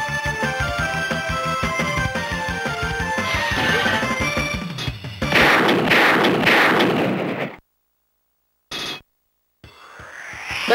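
Rapid continuous shooting and explosions fill the DonPachi shoot-'em-up stage, a dense, loud, close barrage of gunfire that thickens into a heavier blast burst before cutting abruptly to silence, with a brief return and another short burst at the end.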